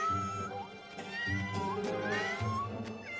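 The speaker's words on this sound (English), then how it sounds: "Oh, that little cat, I swear." A cartoon Siamese cat meows repeatedly in a series of rising and falling, wavering cries, loud and close over a busy background of music or sound effects.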